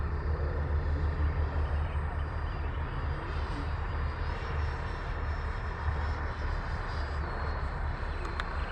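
An L-39 jet on landing approach with flaps down and throttle eased back, its engine a steady, loud rumbling roar that holds even throughout, with no voices over it.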